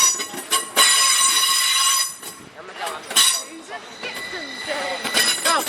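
A train at Skipton station gives off loud metallic squeals and clinking, with bright tonal screeches rising and falling against a rumbling background. People talk at points.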